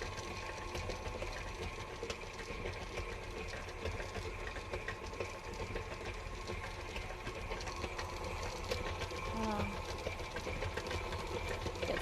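A stand mixer whirs steadily at a stepped-up speed while beating Mickey shortbread dough in its bowl, giving a faint, even motor hum with light rattle throughout and no talking.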